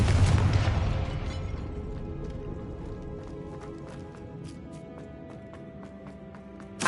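A Confringo spell explosion in Hogwarts Legacy opens with a heavy, close boom that rolls off into a long, fading rumble, and faint clicks and ticks follow over the next several seconds.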